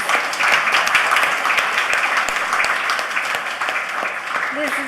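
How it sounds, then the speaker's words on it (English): An audience applauding at an inauguration ceremony for an assistive technology centre at IIT Madras, a full, steady round of clapping from many people that slowly fades toward the end. "definitely deserves a huge round of applause"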